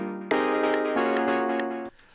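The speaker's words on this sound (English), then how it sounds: "I have this synth kind of loop," A synth loop playing in FL Studio at 120 BPM, sustained chordal tones with rhythmic accents that hold steady for almost two seconds and then cut off abruptly, no voices.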